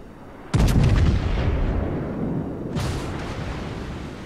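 Naval turret guns fire in World of Warships, the third turret Delta joining in: a sharp, loud boom with a long rumbling decay, then a second blast about two seconds later, both heavy and close.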